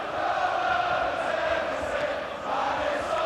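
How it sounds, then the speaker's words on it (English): Football crowd at a Sunderland versus Newcastle United match in November 1991, a steady, broad roar of supporters getting behind Sunderland, continuous and fairly loud, dipping briefly before rising again. "Crowd really getting behind Sunderland now, making for a tremendous atmosphere"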